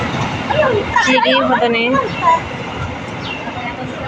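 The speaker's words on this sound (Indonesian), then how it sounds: "Kalau menikmati delok kereta api guys." A train passes near Ngloram Cepu airport in Central Java, giving a steady broad rumble throughout, with people talking over it.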